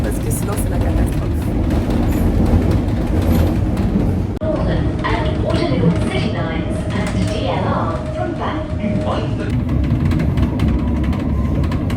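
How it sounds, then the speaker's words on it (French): Metro train running underground, a loud continuous rumble and mechanical roar with a sustained tonal whine midway, while a person talks over it throughout. "Le bruit que le métro il fait en ce moment"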